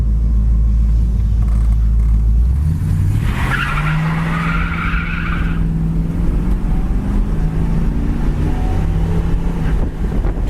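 A 1979 Pontiac Trans Am Special Edition accelerating on the road, its engine note rising then dropping as the automatic transmission shifts, with heavy low rumble and steady wind noise throughout.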